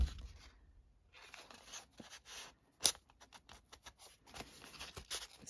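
Scissors snipping paper while making a junk journal, a series of short crisp cuts and rustles at close range with brief pauses between them.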